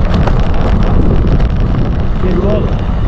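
Strong wind buffets the microphone while riding a gravel bike in the Mont Blanc area, a steady loud roar and rumble throughout with no clear break.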